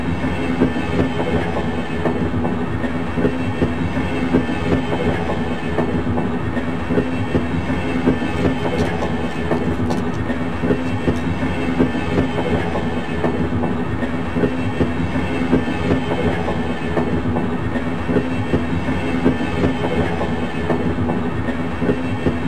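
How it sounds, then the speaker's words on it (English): Automated train of the Black Mesa Transit System in the Half-Life game, rolling steadily with a continuous loud rumble and rhythmic clickety-clack of wheels on rails throughout, no voices. "This automated train is provided for the security and convenience of the Black Mesa"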